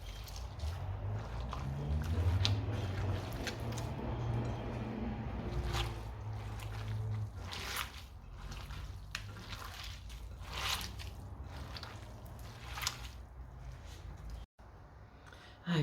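Pork sausage meat mixture being mixed thoroughly by hand for sausage rolls and meatballs, giving soft wet squishing and slapping sounds up close, with a few light knocks and no speech.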